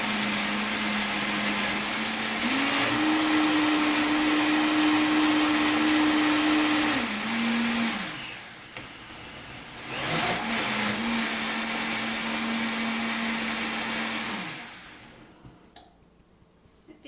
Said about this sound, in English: I'm going to blend that up.